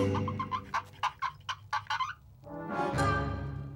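A cartoon chicken clucks in a quick series of short, rhythmic notes, then lets out a longer, drawn-out squawk; close and clear, no talking.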